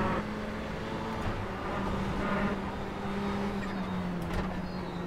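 Ferrari 488 GTE race car engine droning steadily at speed around Le Mans in a racing game, a continuous loud whine with no pauses.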